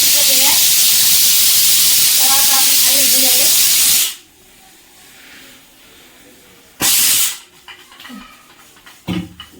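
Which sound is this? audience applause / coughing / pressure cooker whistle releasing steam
pressure cooker whistle releasing steam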